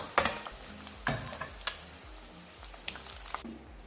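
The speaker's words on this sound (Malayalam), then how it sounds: "ബാക്കി ഇറച്ചിയും കൂടെ നമുക്ക് ഇതുപോലെ വറുത്തെടുക്കാം" Beef pieces fry in hot oil for pickle, with a faint sizzle under several sharp clinks and scrapes of a utensil against the pan.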